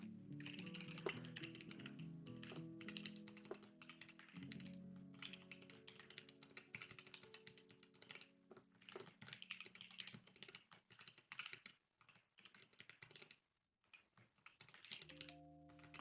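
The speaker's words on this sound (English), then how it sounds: "So let's start with 3 minutes of typing." Steady typing on a computer keyboard during a programming session, dense clattering keystrokes in bursts with short pauses, close and clear over faint background music.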